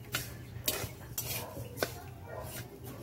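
Corn kernels roast in a pan for corn coffee while being stirred, with a few sharp scraping clacks of a utensil against the pan over a soft, steady frying rustle.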